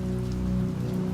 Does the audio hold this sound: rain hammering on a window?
yes